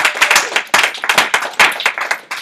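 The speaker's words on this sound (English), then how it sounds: "Let's give Srijita a hand" An audience claps for a speaker, brisk close applause from a small group with uneven, crisp hand claps throughout.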